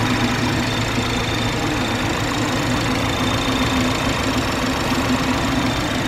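A 2019 BMW X4's twin-turbo inline four-cylinder idles under the open hood, a steady, close, even hum with a faint knocking texture running unbroken throughout.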